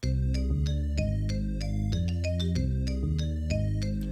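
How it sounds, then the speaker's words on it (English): A bright lead synth counter melody in a hip-hop beat made in FL Studio plucks a string of crisp notes over deep bass and a steady beat, loud and clear. "to add a counter melody, I just added a lead"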